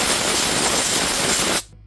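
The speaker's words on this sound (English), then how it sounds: "Try to get some of this cleaner soaked into some of that gunk." Aerosol cleaner sprayed onto a grimy, leaking Hydro-Gear transmission: one steady loud hiss held for about a second and a half, close to the can, then cutting off abruptly.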